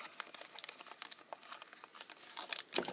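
A plastic packet holding a disposable spring-loaded earring piercer crinkles and crackles in rapid, close, fairly quiet bursts, with a sharper rustle near the end and no talking.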